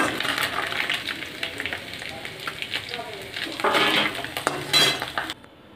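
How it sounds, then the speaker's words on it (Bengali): Fish pieces frying in oil while being flipped, a loud continuous sizzle broken by scraping of a metal utensil against the pan and light clinks, swelling louder near the end before cutting off abruptly. "মাছগুলোকে উল্টে পাল্টে ভালো করে এপিট ওপিট করে ভেজে তুলে নিচ্ছি।"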